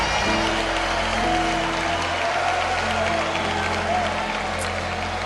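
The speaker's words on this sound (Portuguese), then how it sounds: "Aplauda Jesus." A church congregation applauds during a Pentecostal service, a steady wash of clapping over a low, sustained hum, with a faint voice in the background.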